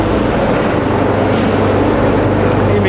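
A grinder mixer runs at an interlock paver plant with a loud, steady, dense mechanical roar and low rumble that holds unbroken throughout, with no voices.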